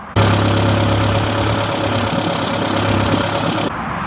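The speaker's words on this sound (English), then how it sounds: "the engine went from sounding like this" A Triumph Dolomite car engine runs steadily just before a big end bearing failure, a loud, close, continuous mechanical drone with a low hum that starts abruptly and cuts off near the end.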